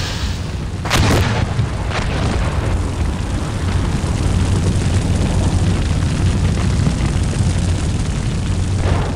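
A tank crew comes under incoming fire in the Steel Beasts Pro tank simulator, with a sharp nearby boom early on followed by a continuous heavy rumble of explosions and engine noise that never lets up.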